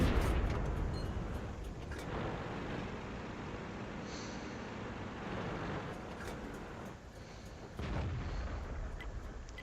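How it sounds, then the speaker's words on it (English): Rapid booming cannon fire from a T-127 light tank in a tank battle video game, repeated blasts over a steady rumbling roar of engine and battle noise, fairly quiet overall with no talking. "Here I'm showing you the rate of fire of the gun."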